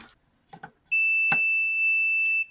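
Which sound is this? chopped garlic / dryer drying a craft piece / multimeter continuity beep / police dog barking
multimeter continuity beep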